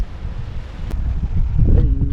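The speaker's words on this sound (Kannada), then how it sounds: "ಇನ್ನೂ ಗಾಳಿ ಬೀಸ್ತಾ ಇದೆ" Wind gusting across the open ramparts of Bekal Fort on the Kerala coast, a steady low roar and buffeting that swells louder toward the end, heard alone without any voices.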